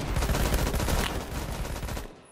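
Rapid gunfire in the Roblox game Phantom Forces as a weapon is fired from the hip, a dense, loud burst of shots lasting about two seconds before cutting off.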